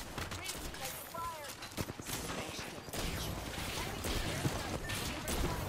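Rapid bursts of automatic gunfire in the battle royale video game Apex Legends crackle in quick succession over a busy game soundscape, with a player talking intermittently beneath.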